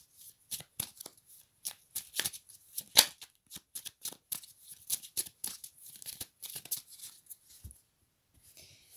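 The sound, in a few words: shuffling and cutting a deck of oracle cards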